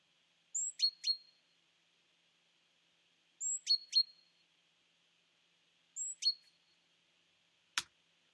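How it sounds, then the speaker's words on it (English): Isolated bird calls cleaned of all background: three short bursts of chirping tweets spaced a few seconds apart, clear and alone against silence, followed by a single sharp click near the end. "I've created a brilliant sound effect track of only our bird"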